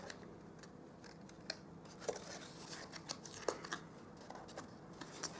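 Scissors snip paper trimmings off a papercraft butterfly box, a handful of light, sharp cuts spaced irregularly and heard close, over a faint background hiss.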